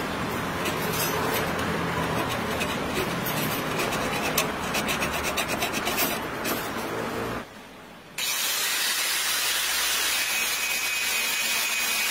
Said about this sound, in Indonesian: Caranya kita gunakan gergaji saja ya.